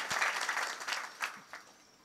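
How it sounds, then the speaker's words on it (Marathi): Scattered audience clapping at a village kirtan program rises in a few brief, light bursts, fairly faint and loose rather than a sustained ovation. "आमच्या दादांसाठी एकदा टाळी वाजवा."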